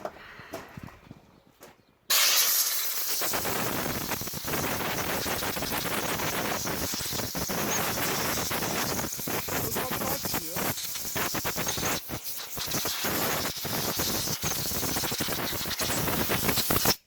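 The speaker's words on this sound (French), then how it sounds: "on va mettre un petit coup de soufflet et puis voir un peu" Compressed-air blower blasting a carburetor during cleaning, a loud steady broadband hiss starting after about two seconds and running continuously with small fluctuations to the end.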